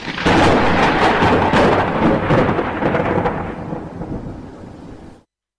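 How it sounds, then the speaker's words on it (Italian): A loud, long thunderclap rolls and rumbles at midnight, booming from the first moment and slowly fading over several seconds before cutting to silence. "il cielo nero è squarciato da un tuono"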